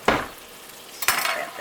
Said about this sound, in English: we're going to let that sizzle about 3 minutes per side all the way around